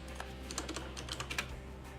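Keys tapped on a computer keyboard during an EUIV strategy game session, a quick run of light clicks over a steady low hum, close and fairly quiet.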